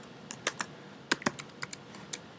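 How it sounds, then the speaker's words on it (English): Someone typing a letter on a computer keyboard, in irregular bursts of close, crisp key clicks with short pauses between them and no talking. "we are going to just type this letter."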